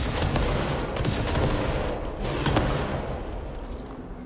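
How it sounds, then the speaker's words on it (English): Sustained gunfire from shooting in the video game Control, a dense burst of rapid shots continuing loud and steady throughout with no talk over it. "If I just keep shooting"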